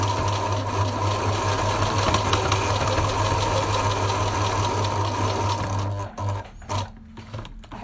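A sewing machine stitches a fabric mask, a loud steady mechanical whir with rapid needle clatter that runs continuously and then stops near the end, leaving a few brief handling clicks.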